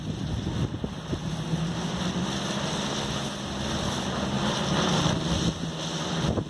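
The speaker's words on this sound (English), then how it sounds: "It's got so much wind hitting it." Strong wind over 50 mph roars and buffets against a 400W wind turbine, with gusty rumbling and a faint high whine running steadily throughout.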